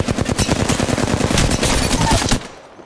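Rapid automatic gunfire from the Apex Legends video game, a loud, dense burst of closely spaced shots lasting a couple of seconds before cutting off abruptly.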